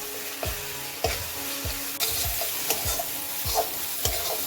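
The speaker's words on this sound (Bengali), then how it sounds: "মশলাটা আমার ভাজা হয়ে গেছে।" Ground spice paste of cumin, chili and garlic with cumin and coriander powder, salt and turmeric fries in a pan, a continuous sizzle with a regular rhythm of spoon scrapes, roughly two per second, close and clear.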